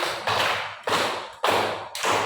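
Counted claps in a classroom clapping game: four sharp, separate hand claps spaced about half a second apart, each ringing briefly in the room before the next.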